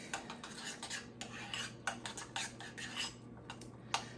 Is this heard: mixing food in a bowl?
yes